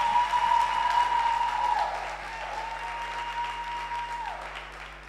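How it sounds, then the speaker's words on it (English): An audience at the 2023 Jamaica Bridal Expo applauds in a sustained burst of many hands clapping, loudest at first and then settling to a steadier level, with a thin electronic tone running beneath. "Can you hear the applause?"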